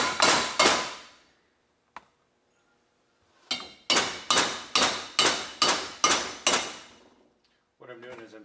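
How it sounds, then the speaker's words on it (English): Hammer blows on a chisel working a front rotor hub loose on a 100 Series Land Cruiser, a few sharp metallic strikes, a pause, then a steady run of seven ringing hits in even rhythm, close and loud. "I'm taking a little kind of a chisel to slowly work on getting this rotor hub separated"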